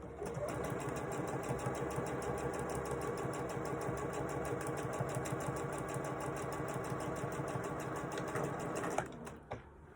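A sewing machine runs steadily and loudly for about nine seconds, putting a decorative stitch across the top of cross-body bag pockets, then stops abruptly, followed by a couple of faint handling clicks.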